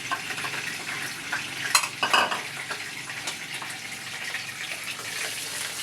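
Onions fry in a pan with a steady close sizzle that continues throughout, broken by a few clinks and stirring scrapes of a utensil against the pan.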